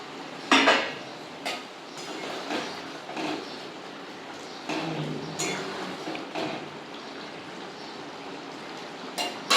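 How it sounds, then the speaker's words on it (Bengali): Fried raw banana koftas being lowered one by one into a pot of simmering spiced gravy, giving soft clinks and light splashes of utensils against the pot amid low kitchen rustle, close and fairly quiet. "এবার আমি এই ভেজে রাখা কোপ্তাগুলো এই গ্রেভিটার মধ্যে আমি দিয়ে দেবো আস্তে আস্তে করে"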